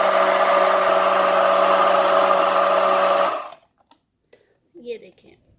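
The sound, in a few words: blender blending banana and fig milkshake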